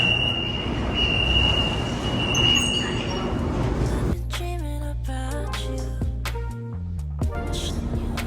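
A metro train runs with a loud, steady rumble and a thin high squeal for several seconds, then the noise drops away under music.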